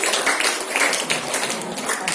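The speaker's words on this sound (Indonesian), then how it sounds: "Tepuk tangan dong untuk mereka semua." Applause from a seminar audience on information literacy: dense, even clapping that fills the whole stretch at steady loudness, with no voice over it.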